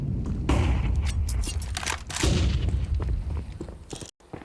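Counter-Strike gunfire and flashbang bursts from a competitive ESL match ring out in loud, dense volleys of shots and bangs, with a brief cut near the end.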